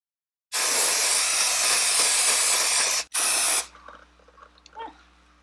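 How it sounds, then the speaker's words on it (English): A protectant spray applied as a second coat to Vachetta leather on a Louis Vuitton Pochette Metis bag: a loud, continuous aerosol hiss for about two and a half seconds, a brief break, a short final burst, then faint handling noises. "tape around the VACHETTA again and spray a second coat"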